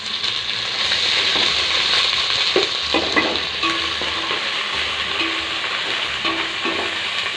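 Ginger and garlic frying with golden-browned onions for beef biryani, a constant loud sizzle with a spoon scraping and stirring through it at an irregular pace, close up and without speech.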